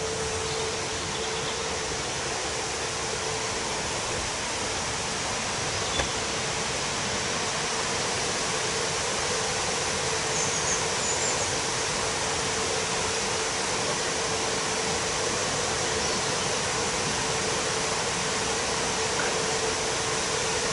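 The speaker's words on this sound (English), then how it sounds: "And the water shooting out underneath" Water rushes out beneath the Wimbleball Lake dam in a constant, loud roar, steady and unbroken with no voices, a heavy outflow churning nearby.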